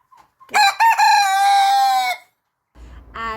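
A pekin bantam cockerel crows loudly and close by, a drawn-out cock-a-doodle-doo, then a shorter second call follows after a pause, with other chickens around it.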